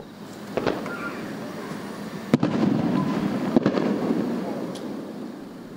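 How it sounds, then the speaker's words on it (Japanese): Fireworks launched one at a time into the night sky over Matsue at an Obon send-off display: a few sharp, booming bursts spaced seconds apart over a steady murmur of a crowd outdoors. "最初は1発ずつ花火が打ち上げられ、"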